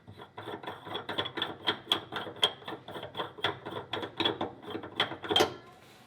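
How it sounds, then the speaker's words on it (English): An oil catch can canister is unthreaded by hand, giving a quick run of close, dry metallic clicks and ratcheting taps in an uneven rhythm, with no voices. "Now we wanna unthread the canister."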